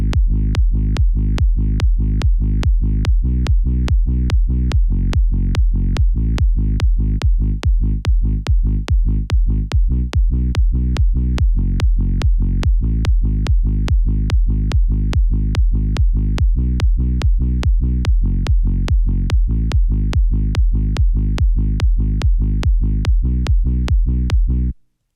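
A warm sliding synth bass drives a steady, pulsing pattern locked to a punchy kick drum, loud and continuous for the whole stretch before cutting off at the end, with no voices.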